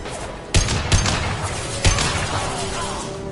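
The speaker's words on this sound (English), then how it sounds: "Firing an impact shot!" Impact shot gunfire in Mass Effect: three heavy, booming blasts ring out over a dull rumbling battle background, the first and last the loudest.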